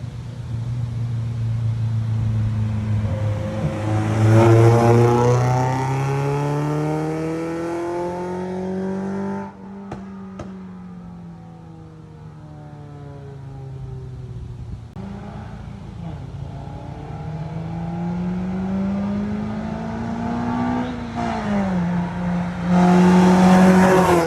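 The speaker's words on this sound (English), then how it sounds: "I will probably put the clip right now of the car doing the pulls" Loud, raspy exhaust from a tuned Toyota Corolla climbs in pitch through several acceleration pulls, dipping between gear changes before roaring up again, close and sustained.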